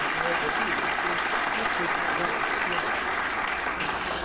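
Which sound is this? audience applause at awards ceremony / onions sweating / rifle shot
audience applause at awards ceremony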